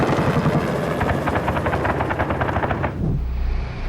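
Military helicopters over an active warzone, with a loud, close rotor thumping in a steady rapid pulse that abruptly drops away near the end, leaving a low rumble.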